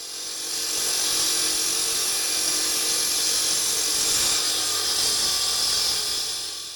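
A water-cooled concrete cutting machine cuts through a 17 cm concrete wall, making a loud, steady high-pitched whine and grinding hiss that holds for several seconds and fades at the ends.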